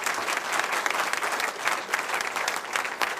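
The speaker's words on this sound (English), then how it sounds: "Let's give all the 6 A's a round of applause." Audience applause at a Kangen Water presentation, a steady even wash of many people clapping throughout, moderately loud and unbroken.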